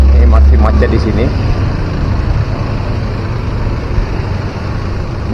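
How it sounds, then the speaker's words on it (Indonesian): Traffic jam on the road in front of the Lembah Anai waterfall, with a steady low rumble of idling cars and engines close by and a person talking over it. "Ini masih macet di sini."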